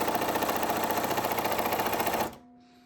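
A sewing machine stitches a decorative zigzag into paper with a fast, even mechanical rattle. It runs steadily for about two seconds, then stops abruptly, and a faint hum is left behind.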